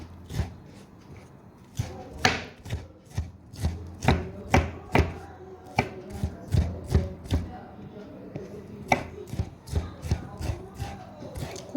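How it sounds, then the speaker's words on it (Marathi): A knife finely chopping cleaned banana flower on a board, close, sharp irregular chops coming in quick bursts with short pauses, faint voices in the background. "ती पण आता बारीक बारीक चिरून घ्यायची आहेत"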